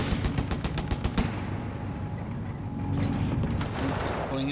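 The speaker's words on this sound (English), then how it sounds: "Shooting left and right" Rapid bursts of machine-gun and rifle fire crackle through a Company of Heroes 3 battle, clustered shots at the start and again near the end over a dense rumbling background.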